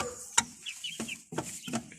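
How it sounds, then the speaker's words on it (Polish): A rooster pecks and feeds on straw and hay scattered on the ground, making soft short clucks among sharp pecking taps, close and fairly quiet. "Kogut sobie zajada."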